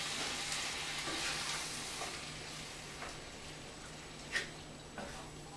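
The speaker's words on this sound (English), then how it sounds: "I'm going to add them first and give that a stir" Spices and tomatoes being stirred in a pot, a steady soft sizzle and frying hiss with a few faint utensil clicks and scrapes, one sharper knock near the end, no talking.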